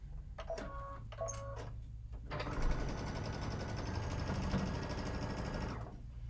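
A domestic sewing machine runs a quarter-inch seam through fabric, a few short stop-start bursts followed by a steady, continuous stitching whir, moderately close and fairly quiet.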